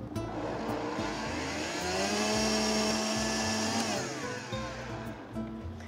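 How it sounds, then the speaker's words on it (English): A blender whirs through a mole base with Mexican oregano, a loud close motor whine that climbs in pitch as it spins up, holds steady, then winds down within a few seconds. "Just put that in, give it another quick blend here."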